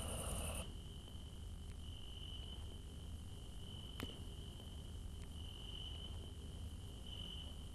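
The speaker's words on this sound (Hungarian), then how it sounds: "Ahogy ezek a tücskök szólnak," Crickets chirp at night, a faint steady high-pitched trill running continuously over low background rumble, with no voices.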